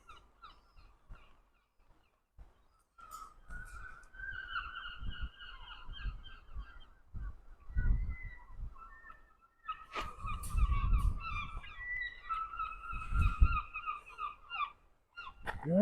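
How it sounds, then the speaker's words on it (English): Geese honk in loud, repeated bursts, first a cluster of calls and then a busier burst later, separated by near silence and accompanied by occasional low thumps and rumbles. "Noisy, noisy birds."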